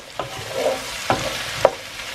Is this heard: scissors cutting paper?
no